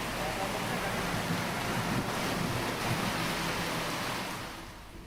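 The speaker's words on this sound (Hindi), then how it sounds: "आज नाथद्वारा से उदयपुर के बीच 2 घंटे की झमाझम बारिश से हाईवे पर कई जगहों पर पानी भर गया।" Heavy downpour and strong gusting wind on a highway between Nathdwara and Udaipur, a dense steady roar of rain and wind noise filling the whole clip, easing slightly at the end.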